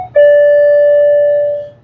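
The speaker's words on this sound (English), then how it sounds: "right next to where the bell is, the door entry thing is." A door entry bell at a shop door chimes once, loud and close, with a single sustained electronic tone that holds steady and fades out after about a second and a half.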